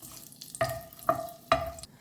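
Whole cloves, a cinnamon stick and a bay leaf fry in a hot pan, giving a soft sizzle with three sharp scraping stirs close by, no talking.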